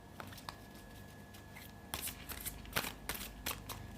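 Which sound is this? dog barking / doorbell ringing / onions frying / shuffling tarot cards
shuffling tarot cards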